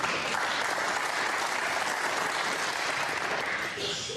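A snooker crowd at the 2017 English Open breaks into sustained applause, a dense, even wash of clapping that stays loud and steady for a few seconds before easing slightly at the end.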